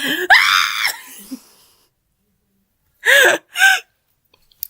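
A sharp, high scream bursts out, then after a pause two shorter shrieks follow in quick succession, loud and close with silence between.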